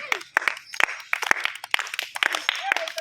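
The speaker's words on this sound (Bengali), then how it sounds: "সকলে জোরে হাততালি।" Onlookers at a children's balloon-foot race prize giving clap in scattered, irregular bursts, near and lively, while voices chatter and shout throughout.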